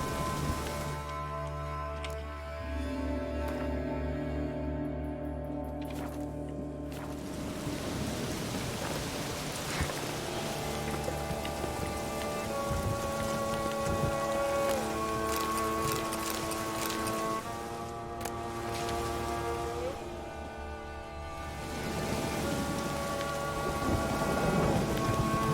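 A thunderstorm in The Witcher 3, with heavy rain pouring continuously and deep thunder rumbling, loud and close, under layered tonal game music.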